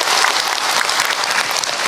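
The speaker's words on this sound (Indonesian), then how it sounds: "Tepuk tangan atuh buat kita semua." A religious lecture audience applauds, giving a dense, even burst of clapping from many hands that fills the room without pause.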